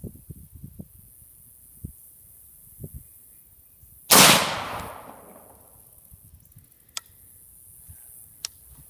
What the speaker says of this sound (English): we just shot the watermelon here